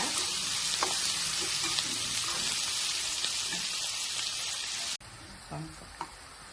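Chopped onions and green chillies fry in a pan with a dense, loud, continuous sizzle and occasional stirring clicks, then the hiss drops abruptly to a quieter crackle.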